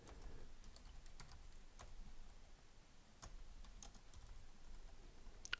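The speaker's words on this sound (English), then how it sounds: "I'll just type this out in full just for practice." Fast, irregular clicks of a computer keyboard as code is typed out in full for a Laravel ticket management app, a steady stream of keystrokes with occasional louder taps, close and alone without talk.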